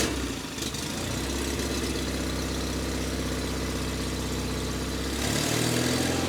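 A 37-year-old John Deere 316 lawn tractor engine running steadily with choke on, a continuous loud mid-low drone that shifts and changes pitch near the end as it settles into idle.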